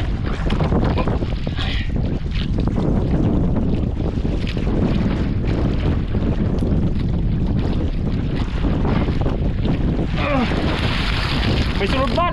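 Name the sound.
strong wind blowing at sea by boat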